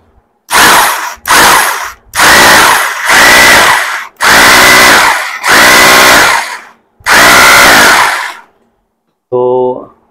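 Rotary hammer drill fitted with an 8 mm bit runs in seven loud bursts of a few seconds each, separated by brief pauses, followed by a short electronic beep.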